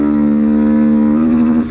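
Honda XRE 190 motorcycle with an exhaust tuned to sound like a BMW 310, holding a loud, steady, deep droning engine note close by on a street, with no clutch in use, easing off at the very end.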